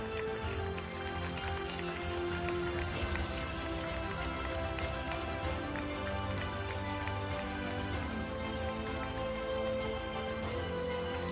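Sustained applause from an audience at a certificate ceremony, steady dense clapping that runs without a break for the whole stretch.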